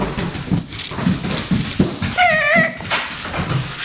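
A young puppy whimpers and yips in a short high, wavering whine in the middle, with soft thumps and shuffling around it in a quiet room.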